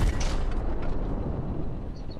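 A tank cannon fires in Hell Let Loose, a single heavy low boom whose rumble decays over about two seconds.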